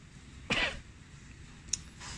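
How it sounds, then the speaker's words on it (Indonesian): A single sharp flu cough, followed a moment later by a brief smaller throat noise, against quiet background hiss. "ini lagi kena batuk flu sekarang"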